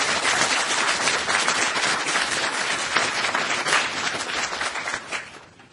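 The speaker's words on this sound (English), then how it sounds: "I think we should all give them a round of applause for that." Audience at an energy and sustainability moot court competition final gives a round of applause: steady, dense clapping from a sizable crowd in a hall, sustained for several seconds before tapering off at the end.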